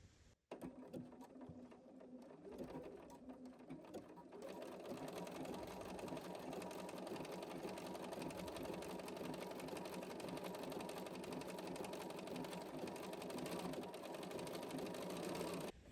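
An overlock sewing machine with an overlock foot runs steadily along a fabric edge, the needle stitching just off the pin and off the fabric. The motor holds a continuous, dense whir for most of the run after a brief start.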